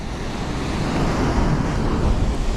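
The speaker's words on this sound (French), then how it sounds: "Il y a de la houle" Sea swell washes around a small fishing boat out on open water in December, a loud, continuous rushing roar of water with wind buffeting the microphone and no voices.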